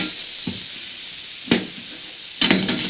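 Soft sizzling of mango frying in a pan with a few sharp scraping stirs, close by and moderately loud, no voices.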